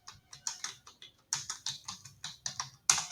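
Quick bursts of typing on a computer keyboard during Tally accounting entry, clustered key clicks with short pauses between groups, close and clear with no talk.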